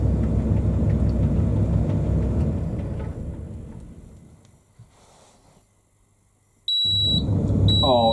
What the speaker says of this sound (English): it's not a buzzer, it's a freaking screaming alarm